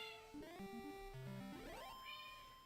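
A hungry cat meows for its dinner: a quick run of several close, insistent meows with wavering pitch, ending on a longer rising call.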